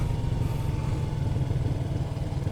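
Motorcycle engine running steadily with a low, even drone as the clutch and throttle are worked during a slow-speed clutch control drill, close and continuous throughout with no voices.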